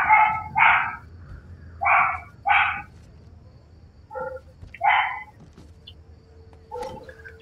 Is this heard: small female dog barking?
yes